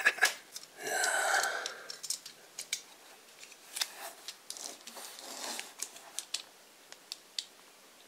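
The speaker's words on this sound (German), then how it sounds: "Und ich werde es jetzt von der Folie befreien." Plastic shrink wrap is peeled and torn off a hardcover book, 'Cthulhu: Buch unaussprechlicher Kreaturen', close up, with a long crinkling rustle followed by a series of sharp crackles and snaps.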